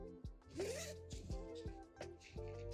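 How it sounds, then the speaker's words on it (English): Zipper on the back leg holes of a PACKMATE dog carrier backpack being unzipped in several quick, close, ratcheting pulls with short pauses between them. "Next, we want to unzip the back leg holes."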